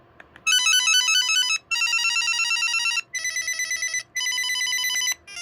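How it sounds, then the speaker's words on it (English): A telephone piezo ringer at full volume shrills loudly and harshly in four long bursts with short gaps, rapid warbling tone, heard alone. "let's see how loud these ringers are on full volume"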